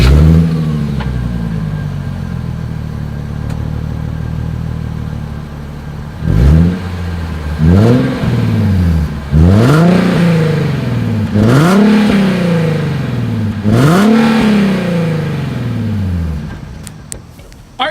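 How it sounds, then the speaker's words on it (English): A 2020 Nissan 370Z idles with a low, steady exhaust burble, then blips the throttle five times in quick succession, each rev climbing sharply and dropping back, loud and close. "Here is the 2020 Nissan 370Z exhaust clip."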